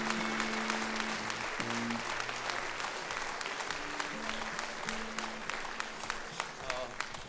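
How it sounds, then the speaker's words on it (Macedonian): Crowd applause at a live salsa concert, steady dense clapping with sharp individual claps standing out, while low sustained tones hum underneath and a voice may be faintly present. "Ве молам еден аплауз"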